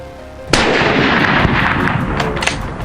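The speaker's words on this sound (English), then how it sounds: "Just a few gunshots echoed through the trees" A sudden loud gunshot cracks out through trees, followed by a long rumbling echo that rolls on and fades slowly, with a few fainter shots in the distance.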